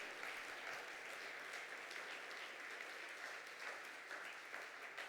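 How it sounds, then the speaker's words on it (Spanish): Congregation applauding steadily in a church service, a dense, sustained wash of clapping with no talk over it. "Denle un fuerte aplauso a Jesús"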